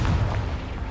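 A short, deep blasting boom from the Confringo explosion spell in the Hogwarts Legacy game, loud and muffled, fading quickly.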